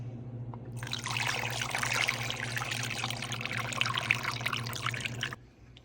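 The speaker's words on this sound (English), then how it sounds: "Now just scoop and pour." Homemade sangria pours steadily into a bottle for about five seconds with a bright, splashing trickle, close and fairly quiet, then stops.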